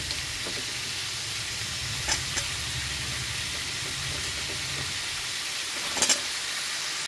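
Pumpkin and beans dropped into vegetables frying in a pan for Bengali labra: a steady, soft sizzle runs throughout, with a few faint clinks of stirring.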